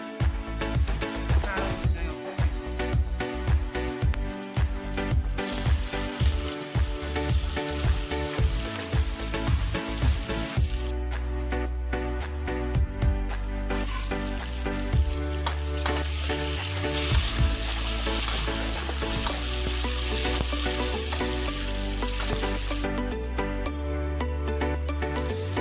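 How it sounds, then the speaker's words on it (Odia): Onions frying in oil with cumin seeds and bay leaf sizzle loudly and close, with stirring scrapes and clatter early on, then a continuous hiss that lasts throughout. "ତାପରେ କିଛି ପରିମାଣ ତେଲରେ ଆମେ ଜିରା ଆଉ ତେଜପତ୍ର ପକେଇ ପିଆଜ ପକେଇଦେବା।"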